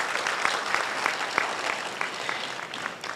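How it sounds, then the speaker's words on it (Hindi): An audience at a college drama performance claps, a brief burst of dense, even applause that stays fairly steady before thinning slightly at the end. "मैं चाहता हूं एक बार आप लोग अपने लिए जोरदार तालियां बजाएं।"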